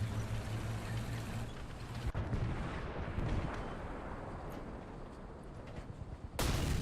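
In the video game War Thunder, a heavy tank cannon blast booms, followed by a long rumbling roar, then a second sharp, loud blast near the end.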